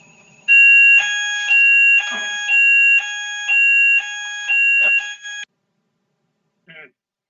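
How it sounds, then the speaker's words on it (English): A fire alarm sounds during a remote fire and rescue authority meeting: loud, steady electronic tones alternating in pitch in a regular two-note cycle for about five seconds, then stopping, followed by a brief faint chirp. "I was going to tell you to stand by for a fire alarm, but we've already had it."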